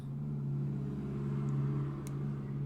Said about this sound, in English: Cars driving down the alleyway.